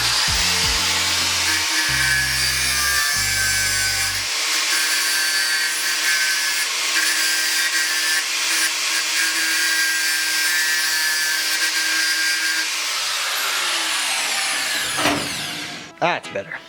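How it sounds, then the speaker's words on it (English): Angle grinder shaving down an adjustable wrench, a loud continuous high-pitched metal grinding whine that holds steady for most of the stretch, with brief low knocks at the start and the tool spinning down near the end. "We're gonna shave it down with the angle grinder."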